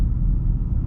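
Inside a 2025 Hyundai Santa Cruz on the move, a deep, steady low rumble of engine and road fills a brief moment, with nothing sharp rising above it.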